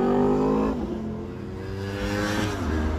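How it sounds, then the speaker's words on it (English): Motorcycles passing outside, a loud steady engine drone with rising and falling revs that swells, dips and builds again, heard alone without talk. "Sorry, motorcycles."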